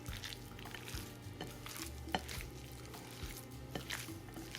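Beef chuck being mixed by hand with salt and seasoning, giving soft wet squishing and stirring sounds with faint clicks of a bowl, steady and close throughout.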